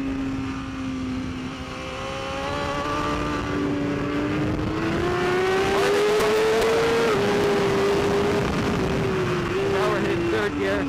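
A BMW race motorcycle engine on a track revs continuously at close range, its pitch climbing and dipping as it shifts gears, under a rider's voice.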